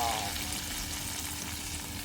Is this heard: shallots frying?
yes